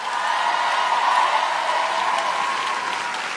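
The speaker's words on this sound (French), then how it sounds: "Vous pouvez les applaudir très très fort." An audience claps loudly and continuously for teachers standing on stage, a dense, even round of applause with an occasional whoop and no speech.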